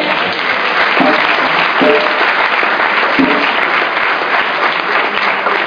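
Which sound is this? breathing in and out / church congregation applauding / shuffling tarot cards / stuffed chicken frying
church congregation applauding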